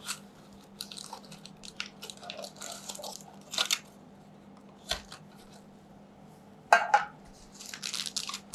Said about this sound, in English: I'm going to remove the foil out of the pan.